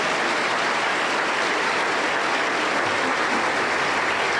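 A church congregation applauds a women's choir from a Pentecostal church in Bagua Grande. The applause is a steady, dense wash of many hands, sustained and even throughout, with no voices over it.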